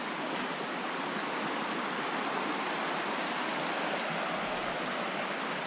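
Steady, broadband rush of Big Creek flowing through Olympic National Forest, a continuous close water wash with no talking.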